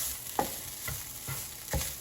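Ground turkey sizzles steadily in a pan while a utensil scrapes and stirs it in several short, spaced strokes, with no voices.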